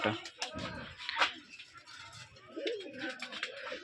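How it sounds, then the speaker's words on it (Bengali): Rajshahi Giribaz pigeons, including a male, coo in soft repeated throaty calls close by, with light rustling in between. "এটা নর কবুতর"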